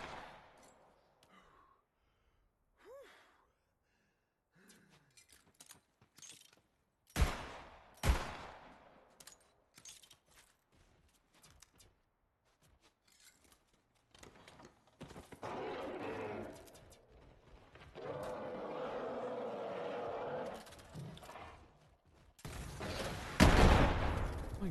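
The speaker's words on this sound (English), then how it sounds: "Aside from being too loud, using this big boy rocket is really hilarious." Rocket launcher fire in the video game Borderlands 3: scattered sharp blasts and bursts, followed by a sustained roaring rumble and a loud explosive burst near the end.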